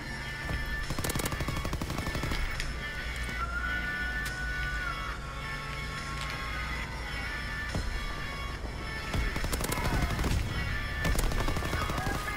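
LMG fire in the World War II shooter Call of Duty WWII, bursts of rapid gunfire over a busy rumbling battlefield, with clusters of sharp shots near the start and end.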